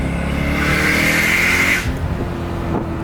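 A powerful Mercedes CLK DTM Cabriolet engine roars close by, its whine climbing in pitch as it accelerates through a corner, then easing off abruptly into a lower rumble.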